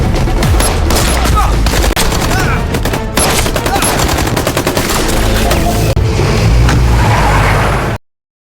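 A film shootout between mercenary soldiers at an old building plays out in dense, loud, rapid automatic gunfire that continues almost nonstop, with vehicle noise and scattered voices mixed in, before cutting off abruptly.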